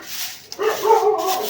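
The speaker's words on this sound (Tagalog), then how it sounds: "Tahol ka na naman." A dog barks in a short burst of sharp yips and whimpering barks, close and loud, after a brief thump.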